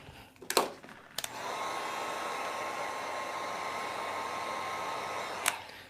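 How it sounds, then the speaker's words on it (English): A heat gun warms leather-look vinyl being wrapped onto a gun safe, giving a steady, loud blowing whoosh that runs continuously after a couple of brief clicks and handling knocks at the start. "Now I'm adding heat on it."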